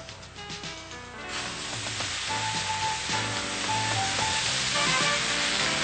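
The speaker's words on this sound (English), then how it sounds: "lower it into position, preheat, and start the cut" Mini-Mantis II beam-cutting torch slicing through a steel beam web, a steady roaring hiss under a loud, continuous background with machine tones, rising slightly as the cut begins.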